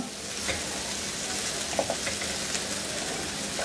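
Vegetables for chicken tikka fried rice sizzle steadily in a pan, a close, even frying hiss with a few faint stirring knocks.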